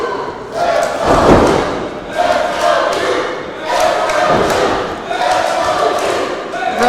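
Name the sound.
wrestling crowd cheering for Duke Hudson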